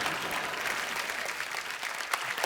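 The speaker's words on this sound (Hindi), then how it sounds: "एक बार जोरदार तालियां।" A studio audience on The Kapil Sharma Show breaks into dense, bright applause. It is loud and continuous across the short moment, with no talking over it.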